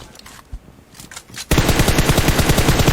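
Automatic rifle fire in PUBG Mobile, with quiet scattered shots followed by a sudden loud, rapid sustained burst of closely spaced rounds.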